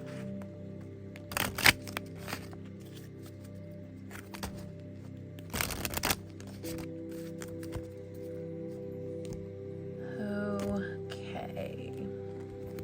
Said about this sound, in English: Let's shuffle a little bit better than that.